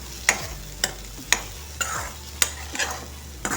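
Potato bhaji for a fast, mixed with two spoons of crushed peanuts, stirred in a pan: six or seven sharp scraping strokes at a steady rhythm over a low background hum, close and alone.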